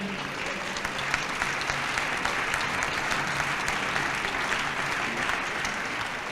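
Sustained audience applause for decathlete Kevin Meyer at a sports-of-the-year awards ceremony, a dense, steady wash of many hands clapping without pause from start to finish.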